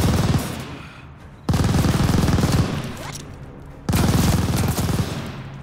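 An enemy machine gun firing in the video game Call of Duty: Vanguard, sounding as loud, close, sustained bursts of rapid automatic fire, with one burst fading and two more starting abruptly.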